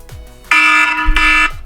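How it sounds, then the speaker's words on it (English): A loud electronic timer alarm blares in two sustained bursts with a short gap between them, steady and piercing, heard alone after a brief low rumble. "my timer just blasted"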